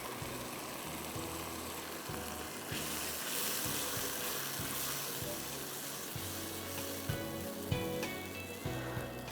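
Chicken pieces dropped into a pan of tomato puree and ketchup sizzle steadily, a soft continuous hiss with low tonal background sound underneath.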